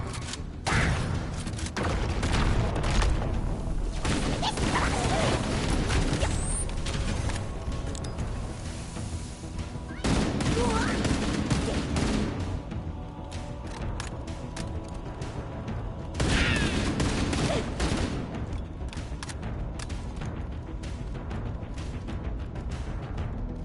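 Gunfire in the video game Halo Campaign Evolved on PS5 rattles in dense, sustained bursts with booming thumps over a constant loud battle bed, in several waves, and no voice over it.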